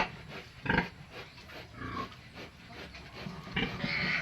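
A breeding sow grunts and snuffles close by in short, uneven bursts, with scraping and movement noises between them.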